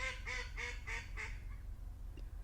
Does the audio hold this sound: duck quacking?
yes